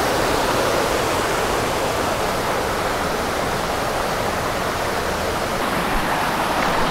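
A waterfall near Ratnapura, Sri Lanka, sends rushing water down in a constant, loud, close roar that stays even from start to finish.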